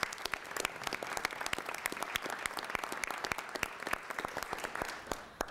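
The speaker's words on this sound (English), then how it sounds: "So we can give her a round of applause." A room full of people at a city council meeting gives a round of applause, many hands clapping steadily and densely with no talk over it, tapering slightly at the very end.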